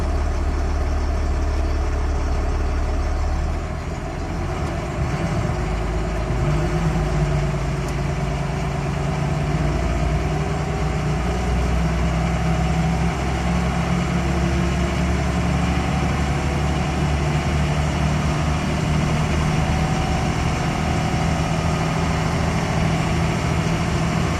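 A Cummins diesel truck with a P-pump engine pulls away from a stop, its heavy low engine rumble steady, loud and close for the whole stretch, with no voices.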